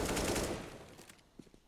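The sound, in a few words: gunfire in the video game Counter-Strike on the Inferno map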